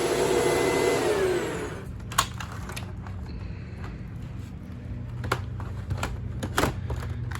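A Shark APEX upright vacuum cleaner, a customer return, runs steadily with a loud motor drone that starts strong and settles lower, with sharp clicks and knocks over the hum.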